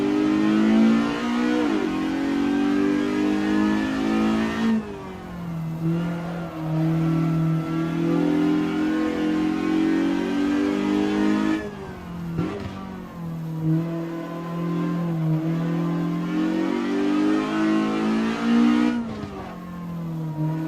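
A Jide 1600 S vintage race car on 1960s tyres revs hard in Assetto Corsa, its engine note climbing steadily through each gear, then dropping at every shift, loud and close throughout.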